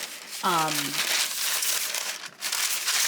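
Parchment paper is laid over shrink film on a lined baking sheet, giving a near, steady crinkle and rustle with a brief tonal squeak early on.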